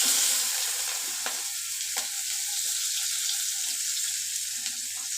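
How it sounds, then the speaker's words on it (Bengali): Chopped onion sizzling in hot oil with nigella seeds and a bay leaf, a steady low crackling fry with a few sharp spatters and scrapes, close and fairly quiet. "এবার পেঁয়াজ কুচি দেবো"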